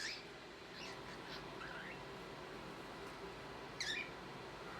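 Birds chirp faintly outdoors: a few brief, high calls in scattered bursts over a steady, quiet background hiss.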